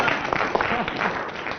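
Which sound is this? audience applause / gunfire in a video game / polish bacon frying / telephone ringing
audience applause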